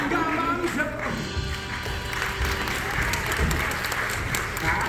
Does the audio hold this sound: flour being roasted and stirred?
no